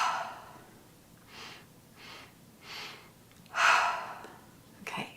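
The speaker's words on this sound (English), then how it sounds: "It's essentially one breath, but I'm going to bring it in 3 parts, like little sniffs in my nose, and I'm going to be exhaling through the mouth." Breathing exercise during seated chair yoga: three short sniffs drawn in through the nose, then a longer, louder exhale through the mouth, close and soft with quiet pauses between.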